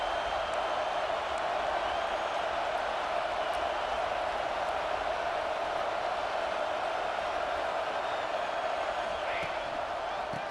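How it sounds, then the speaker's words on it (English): Steady roar of a video game football stadium crowd during a college matchup, loud and continuous wall of noise with no breaks, sustained throughout at the same level. "This offense trying to quieten the crowd on 1st and goal, and they are not cooperating"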